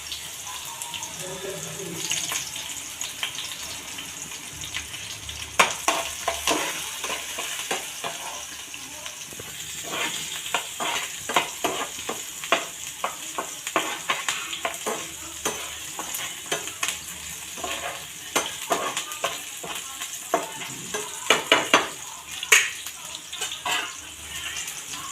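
Garlic, chilli and turmeric fry in oil in a pan, a soft continuous sizzle under frequent sharp scraping and clacking from a spoon as the mixture is stirred, close and moderately loud throughout.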